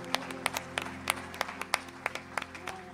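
Church congregation applause at an Easter celebration, sharp separate claps popping at an irregular pace over a steady humming background, fairly close and moderately loud.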